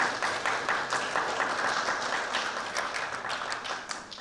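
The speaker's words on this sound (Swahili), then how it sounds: "Tupigieni makofi" Audience applause at a gathering marking the Brazil legends team's visit to Zanzibar, many hands clapping in a steady dense patter with some individual claps standing out, fading slightly toward the end.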